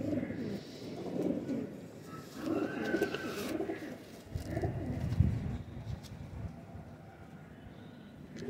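Pigeons coo close by in soft, throaty bursts that repeat in a loose rhythm, with faint background noise between calls.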